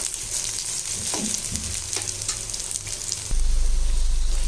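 Onions frying in sesame oil for a tomato chutney, with a close, steady sizzle and a few stirring scrapes, then a low, even hum comes in near the end.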